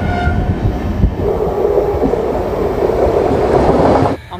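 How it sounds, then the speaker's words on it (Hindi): Paschim Express train running on the adjacent track alongside, a loud, steady rumble of wheels and carriages rolling past close by without pause, with a short drop at the end and no talk. "पश्चिम एक्सप्रेस जो है हमारे साथ ही आ रही है बिल्कुल।"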